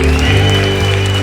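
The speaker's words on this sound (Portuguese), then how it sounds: "Você pode aplaudir bem forte a Jesus." A church congregation claps loudly and steadily through a short burst of applause during a worship service, with sustained instrumental tones ringing underneath.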